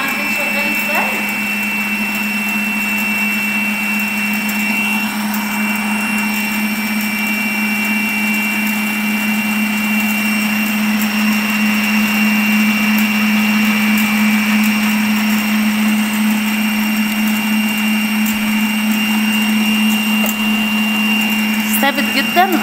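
A stand mixer kneads dough at its highest speed, giving a loud, steady motor whine that runs unbroken throughout, with a faint knock near the start and end.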